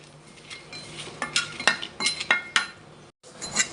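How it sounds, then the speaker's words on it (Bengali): Dried red chillies being dry-fried in a pan for a black cumin paste, with a run of sharp metallic clinks and scrapes of a utensil against the pan, close and uneven, briefly cut off near the end. "সকাল সকাল কালিজিরা ভর্তার জন্য শুকনো মরিচ ভেজে নিচ্ছি।"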